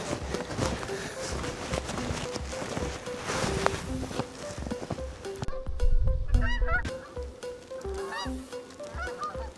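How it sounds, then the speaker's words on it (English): Many geese honk repeatedly nearby at a river, a noisy overlapping chorus with some splashing and movement beneath. "There are a bunch of geese in the front of my home at the river"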